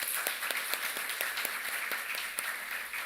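A church congregation claps for its volunteers and next-generation teachers, a dense, even patter of many hands continuing for a few seconds.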